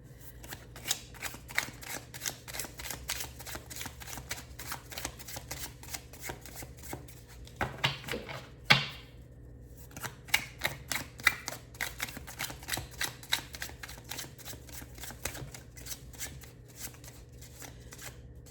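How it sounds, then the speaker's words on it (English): Tarot cards being shuffled by hand, a steady run of soft, rapid riffling clicks with a brief louder burst of handling midway, close and with no talk. "I guess I was doing a really great job of shuffling."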